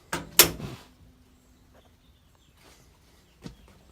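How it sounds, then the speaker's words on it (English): A 1959 Ford F100 truck door, opened carefully so as not to crunch the fender, gives a couple of sharp metallic clunks, followed by faint rustling and a soft knock, close and quiet with no voices. "I'm gonna be reasonably careful not to open this door and crunch my fender up."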